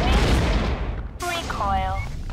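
Gunfire in the video game Awesomenauts: a dense burst of rapid shots fills the first second, then synthetic game effects and a voice line follow.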